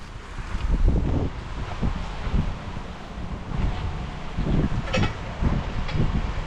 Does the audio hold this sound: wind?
yes